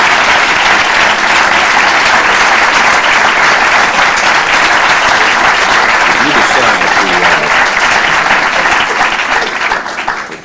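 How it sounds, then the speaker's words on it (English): Loud, sustained audience applause after a 1997 public debate, a thick wall of clapping from a large crowd that holds steady for ten seconds before starting to fade at the very end. "I'd also just like to ask you to extend your applause to Tony Morrow"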